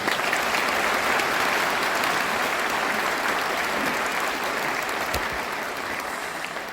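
Warm, sustained applause fills a large hall at the opening-eve ceremony of the Bucheon International Fantastic Film Festival, as the audience claps for filmmakers; the dense clapping stays loud and continuous, easing only slightly near the end.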